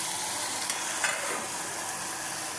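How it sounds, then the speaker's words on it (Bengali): Food frying in a pan gives a continuous, fairly loud sizzling hiss, with one or two faint stirring touches near the start. "এখানে ভাজা হচ্ছে।"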